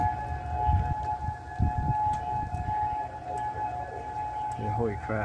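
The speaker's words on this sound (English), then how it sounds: "Freaking sirens are going off. Loud as heck." Loud outdoor civil defense sirens wail steadily for a tornado warning, with someone talking nearby over the drone and wind buffeting the microphone.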